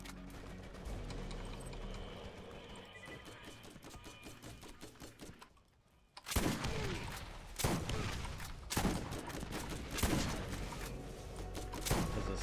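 Shotgun blasts in the Borderlands video game, several loud booming shots spaced about a second apart after a quieter stretch of rapid clattering gunfire, close and punchy.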